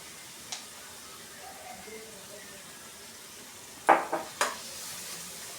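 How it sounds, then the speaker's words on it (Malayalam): A few brief scraping clinks of a utensil stirring rose apple pickle in a pan, two or three quick strokes near the end over a faint low background hiss. "നല്ലവണ്ണം ഇളക്കി യോജിപ്പിക്കാം"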